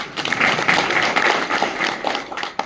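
An audience at a political party workers' rally in Wadala applauds, producing a dense, sustained patter of clapping that swells and then fades off.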